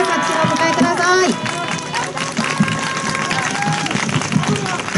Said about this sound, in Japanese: 拍手をお迎えください